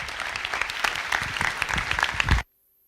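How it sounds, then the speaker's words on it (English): A conference audience at an agile summit gives a warm round of applause for the closing keynote speaker, with dense, loud clapping that runs steadily and then cuts off abruptly. "Give a warm round of applause to Portia Tung."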